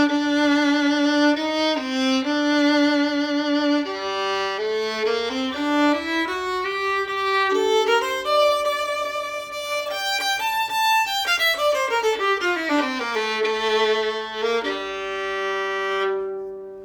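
A violin with a slightly deep, gruff tone plays a slow melodic phrase of sustained bowed notes, sliding and stepping up and down in pitch, heard alone and up close.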